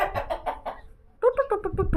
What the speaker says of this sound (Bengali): এটা হচ্ছে আমাদের ছোটোখাটো একটা কৃষি খামার মুরগির ফার্ম দেশি মুরগি